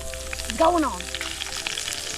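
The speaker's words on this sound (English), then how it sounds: "Now that we've got a bit of a sizzle going on." Garlic butter sizzles steadily in a pan, a dense crackling hiss, with a short voiced murmur rising over it early on.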